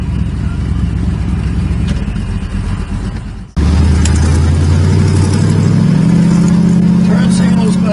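A 1947 Ford Custom car engine running, a low steady motor hum that jumps louder partway through and settles into a rising drone, heard from inside the car.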